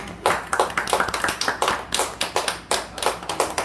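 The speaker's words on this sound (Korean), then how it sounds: "크게 박수 한번 주세요" A church congregation at a memorial service claps in a rhythmic, evenly spaced beat, crisp and close, steady for several seconds.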